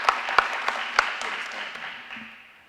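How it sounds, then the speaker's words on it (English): Audience applause at a college manufacturing signing day, a brief burst of clapping with a few sharp claps up front that fades quickly over the room's background murmur. "give them a round of applause"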